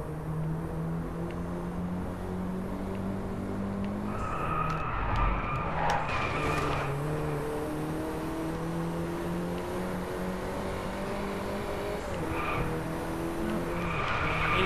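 An Audi cruising in the DriveClub racing game on PS4, its engine droning steadily with shifting harmonic tones, brief tyre skids and squeals around the middle and again near the end, no voices.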